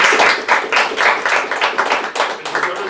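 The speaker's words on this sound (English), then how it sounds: "you can give yourself actually a round of applause" An audience at a commencement ceremony applauds, steady dense clapping from many hands filling the room for a few seconds, fairly loud and even.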